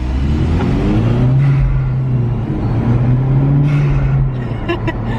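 A car accelerates hard with traction control switched off, its engine note climbing and holding steady close to the microphone, with a passenger's voice briefly heard over it.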